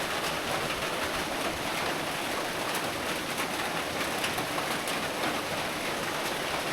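Heavy tropical rain pours steadily on a Sumatran rainforest, a dense unbroken hiss of drops on leaves and ground that fills the whole stretch without pause or voices.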